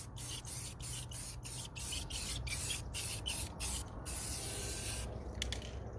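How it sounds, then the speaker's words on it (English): Spray can misting a light coat onto oily valve cover gaskets, a series of short hissing bursts in quick rhythm followed by a longer spray, close up over a low steady background rumble. "you just kind of want to mist it, see if it reacts"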